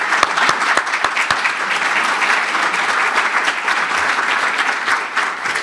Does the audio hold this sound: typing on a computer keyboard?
no